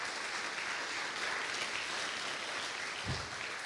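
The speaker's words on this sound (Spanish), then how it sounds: "dele un aplauso al Señor" A church congregation applauds together at a worship service, a faint, steady wash of clapping lasting throughout.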